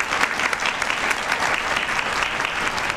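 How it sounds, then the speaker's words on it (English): A town hall audience at a women's commission event gives a round of applause, steady dense clapping heard from across the hall at moderate volume with no speech over it. "let's give everybody another round of applause"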